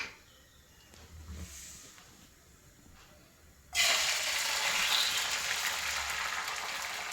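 Egg dropped into hot coconut oil in a pan sets off a sudden loud, steady sizzle and hiss that continues to the end, after a quieter stretch of faint kitchen sounds.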